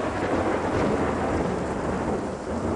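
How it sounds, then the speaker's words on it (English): Rolling thunder rumbles through steady heavy rain in the video game Wrongworld, a dense, continuous wash of downpour and low storm noise with no voices. "It's thundering"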